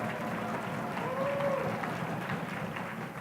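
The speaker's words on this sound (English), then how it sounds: "Let's just give them a round of applause when they come up." Audience applause at a corporate general session honoring 10-year employees, a steady, dense wash of clapping through the whole stretch, fairly distant and even, with some crowd murmur mixed in.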